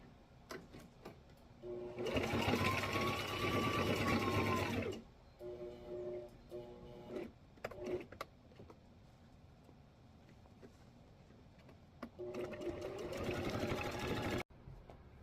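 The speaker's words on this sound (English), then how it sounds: "We're going to back stitch over the sides and then just one stitch on the long sides." Sewing machine back stitching the sides of a small fabric tote with pink thread, two sustained motor runs with short stop-start bursts between, fairly close.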